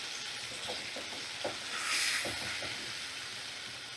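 Boiled lentils go into a pan of sizzling ginger-garlic paste and are stirred, giving a soft, quiet hiss broken by scraping stirs and a brief swell of steam.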